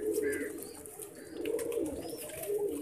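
Pigeons in a breeding loft coo in low, continuous, overlapping calls close by, with a few brief higher chirps and rustles layered over the steady murmur.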